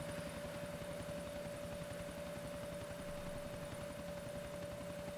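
A helicopter in the video game GTA IV drones steadily, its rotor chopping in a fast, even pulse beneath a constant engine whine, faint and unbroken throughout.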